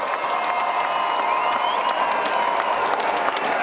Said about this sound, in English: let's have a round of applause for these 2 warriors